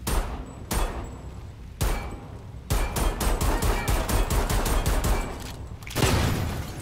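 Rapid automatic gunfire from the video game Homefront: The Revolution, played on Xbox One, with dense bursts and single shots packed together in a loud, sustained fusillade, no speech.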